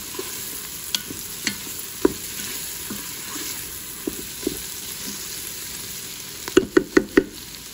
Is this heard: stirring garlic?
yes